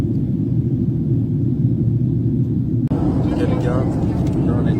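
Airliner cabin in flight with a constant heavy low rumble of engines and airflow, loud and unbroken, while people talk nearby over it.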